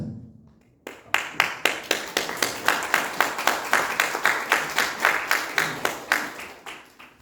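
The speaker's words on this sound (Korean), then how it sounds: "박수를 치시려면 제대로 한번 쳐보셔야죠" After a brief quiet moment, an audience at a lecture hall event claps in unison, a loud, regular rhythm of sharp synchronized claps repeating steadily for several seconds.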